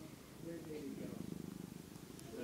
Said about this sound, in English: Do you hear her purring?